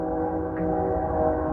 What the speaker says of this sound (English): There is a train again.